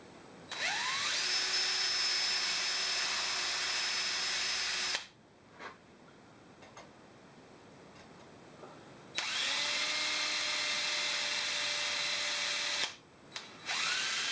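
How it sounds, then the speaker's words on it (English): A power drill bores a mounting hole for power resistors in two long runs, its motor whining up to a steady high pitch each time, with quiet gaps between. "we've drilled our mounting hole for the resistors"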